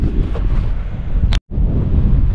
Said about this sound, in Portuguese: Tá ventando bastante também